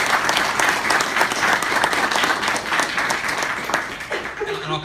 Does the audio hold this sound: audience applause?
yes